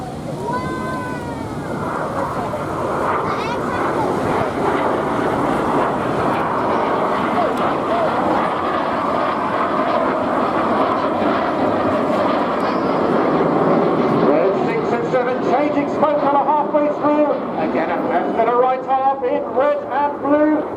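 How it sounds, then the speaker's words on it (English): Synchro pair jets flying in from left and right to perform double rolls at Torbay Airshow, a loud rising roar of engine and wind lasting throughout, with a commentator talking over it. "In from the left and the right, the synchro pair about to perform the double rolls."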